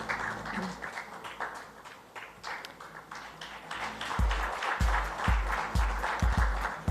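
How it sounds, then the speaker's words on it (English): Audience applause following a panel discussion, a thin spread of clapping at first that swells louder in the second half, with heavy low thumps landing every half second or so beneath the claps. "A big round of applause, ladies and gentlemen."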